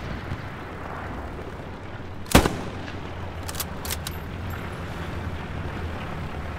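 A single sharp gunshot rings out in the World War II shooter Hell Let Loose, followed by a few fainter distant shots over a low, steady battlefield rumble.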